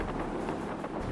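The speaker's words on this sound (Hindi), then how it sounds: "यहाँ तेज हवा के साथ बारिश हो रही है।" Cyclone Amphan's strong wind buffets the microphone at Paradip, Odisha, in a steady, fairly faint rushing noise with low rumbling gusts.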